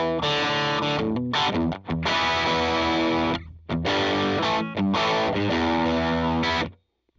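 An overdriven electric guitar plays through a Tube Screamer pedal into a Fender Deluxe Reverb amp and a 2x12 Matchless cabinet, giving loud sustained chords in distorted phrases with brief gaps before ringing out.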